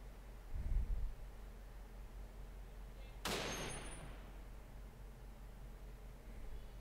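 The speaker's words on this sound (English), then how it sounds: "Shoots a 50 BMG, kind of a big bullet. See what it does to some titanium." A Barrett .50 BMG rifle fires into a titanium target: a single sharp, loud outdoor blast midway through that tails off slowly, with a duller thump shortly before and steady background hiss around it.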